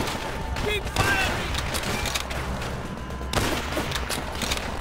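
Gunfire and explosions in the Call of Duty: World at War game, a dense, loud wash of rapid shots and booms that continues throughout.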